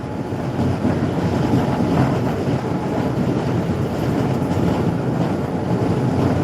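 Inside a moving train approaching Thrissur: a steady, loud broadband rumble of carriage and rail noise runs unbroken throughout, with a windy roar and no voices.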